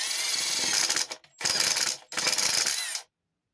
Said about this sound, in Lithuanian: nusukam dabar varžtus